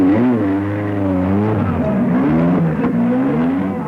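A turbocharged Renault 5 rally car on African dirt tracks in the early 1980s, its engine loud and close, the pitch rising and falling as it accelerates and shifts, with no talk over it.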